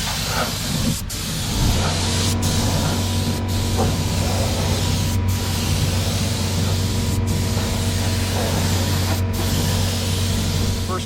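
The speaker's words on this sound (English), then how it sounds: "So we'll get this mixed up and squirt a few coats of clear on." Spray gun laying down wet coats of mixed clear coat on a classic Corvair restoration part: a steady, continuous hiss of atomized paint with faint periodic clicks, heard close with no talking.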